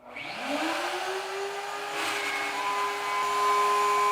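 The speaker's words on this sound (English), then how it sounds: "To imitate a computer drive, Adam and Jamie set up a high-speed run with a CD mounted in its plastic tray." A CD in its plastic computer drive tray spinning up to very high speed, a rising whine that settles into a loud, steady, shrill whir with broadband rushing noise, continuous and close throughout.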